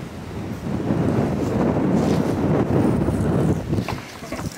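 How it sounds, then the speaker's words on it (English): Wind blowing at an open Iowa campsite, a steady loud rushing roar with buffeting gusts against the microphone, no talking heard. "And it's still windy."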